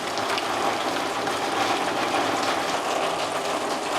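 Steady, dense rain drums on a tin roof in rural Bangladesh, a continuous hiss with a constant, even patter throughout, no voices.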